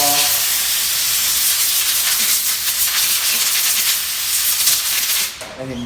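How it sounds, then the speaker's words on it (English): A dental air nozzle blows a steady, loud, broad hiss of air to dry a denture, continuing close by for several seconds before cutting off near the end. "I'm going to use the air nozzle just to blow off"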